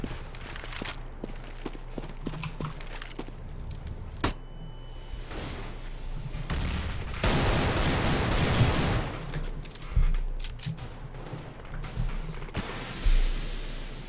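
Desert Eagle pistol fire in a CS:GO match mixed with other gunfire bursts, footsteps and game effects, including a dense spray of shots in the middle and scattered single sharp cracks.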